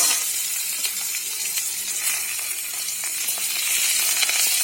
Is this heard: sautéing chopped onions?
yes